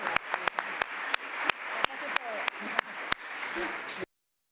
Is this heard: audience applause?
yes